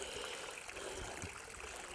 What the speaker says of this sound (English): Oh yeah, we got a waterfall.